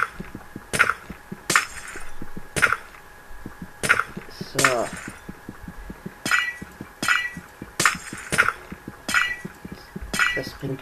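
Glass blocks shattering in Minecraft, a string of about a dozen sharp crunchy breaks at a steady pace, each a brief clinking burst, loud and close with no talk over them.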